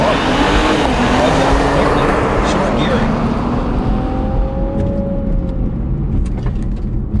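A 2018 Infiniti Q60 Red Sport coupe launches hard from standstill in a 0 to 60 mph run, its loud engine roar steady and rising in pitch through short gears inside the cabin, with someone talking over it.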